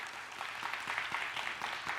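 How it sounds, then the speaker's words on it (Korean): A church congregation breaks into applause at a Bible seminar: a dense, moderately loud patter of many hands clapping together over a couple of seconds, with no talking over it. "박수 한번 쳐 드립시다"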